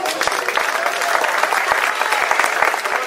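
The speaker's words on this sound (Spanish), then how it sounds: "Un gran aplauso" A crowd applauds at a community event, brisk, continuous clapping with distinct sharp claps scattered through it, moderately loud and without speech.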